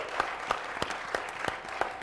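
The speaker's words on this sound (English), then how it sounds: "I think a round of applause for the students who led tours, the students who were on cameras and audio for Miguel" Applause from a modest audience at an education panel event, a sparse crowd clapping with distinct individual claps standing out over a soft steady patter, fairly distant and moderate in level.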